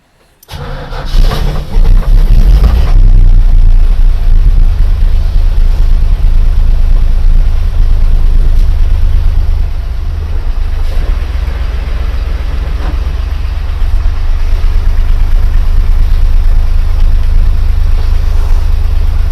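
A 1951 Willys Wagon with four-wheel drive cranks and fires up, its engine catching loudly and then settling into a steady, rumbling idle that dips slightly partway through and carries on close by.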